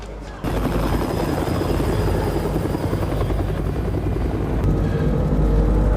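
Helicopter flying close by, a loud, continuous rotor thrum and buzz that cuts in abruptly and holds steady for several seconds, with no voices over it.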